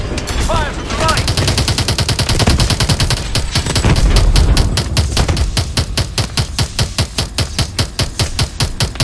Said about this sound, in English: Fire from the right!